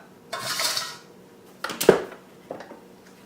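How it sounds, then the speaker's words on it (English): A zucchini and corn mixture is scraped into a bowl, a soft scraping rush followed by a few sharp clinks and knocks of a utensil against the bowl, close by, with no talking. "what I'm going to do is to transfer this into this bowl, and then I'm going to mix in the rest of the zucchini"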